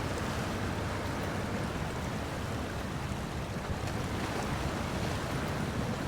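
Truck pushing through deep water in SnowRunner: a steady, loud wash of churning water and engine rumble that continues unbroken, with no speech.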